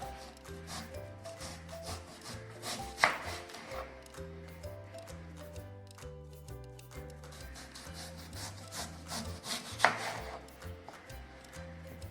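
A knife cuts through an onion being sliced into rings on a board, soft scraping cuts with two sharper chops, heard under steady background music without speech.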